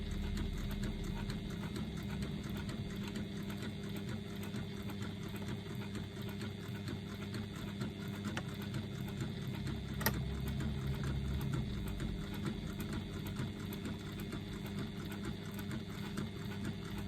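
A sewing machine stitches card slots for a leather wallet, a steady fast mechanical whir and tapping that runs continuously at low to moderate level.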